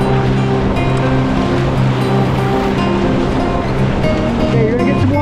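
Whitewater rushing and splashing steadily around a raft on class 3 river rapids, loud and close throughout with continuous broadband churning and a low rumble, no talk.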